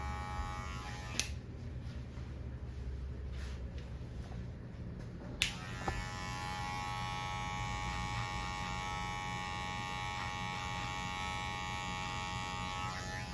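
An electric hair clipper trims and shapes a man's beard at the chin and moustache, blending into a fade, giving a steady close mains-pitched buzz throughout with a few light taps and clicks against the hair.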